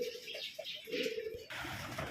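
Pigeons coo softly in short repeated phrases over a steady outdoor hiss, the calls faint and somewhat distant, with a rustling broadband noise taking over near the end.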